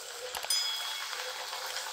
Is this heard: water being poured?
no